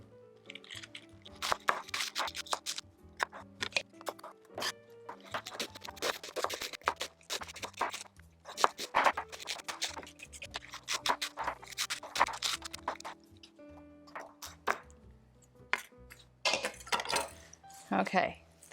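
A knife cuts up cabbage for homemade sauerkraut, giving bursts of crisp chops and scrapes against a board, with pauses between them and a voice talking over parts of it.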